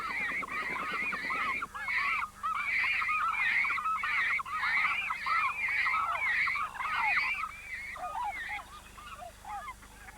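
Giant Canada geese honking at Sand Lake refuge marshland, a flock's repeated overlapping calls in a steady rhythm, clear and fairly close, with no talk.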